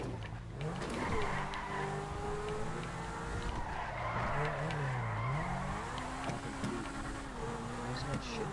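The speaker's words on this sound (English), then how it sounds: "Mad drifting skills, though." A car drifting in GTA 5 on PS4, engine droning with rising and falling pitch as tires skid and screech continuously at steady loudness.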